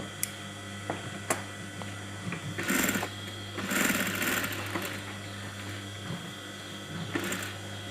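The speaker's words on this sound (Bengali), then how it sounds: "তারপর বেনের উপর দিয়ে কিনার দিয়ে একটি সেলাই করে দেব।" A sewing machine stitches the band collar of a kameez, its steady mechanical whirr running in short bursts with pauses and light ticking between runs, close and fairly quiet.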